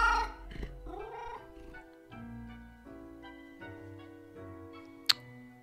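A cat meows inside a video game, several short, soft calls spread across a quiet stretch with a faint musical tone beneath and one sharp click near the end.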